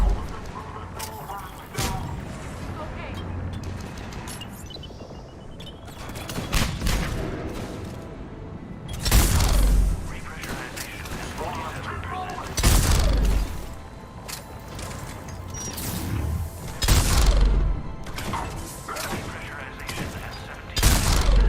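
Pistol gunfire in the Mass Effect video game, a series of punchy shots and booming impacts recurring every few seconds over combat noise and mechanical clatter.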